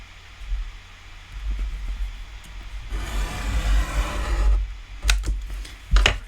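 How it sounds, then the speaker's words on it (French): Craft knife drawn along a small metal ruler to cut scrapbooking paper, a close, steady scraping rasp for a couple of seconds, then a few sharp taps and clicks as the blade lifts. "Je vais prendre une petite règle en métal et mon cutter et venir"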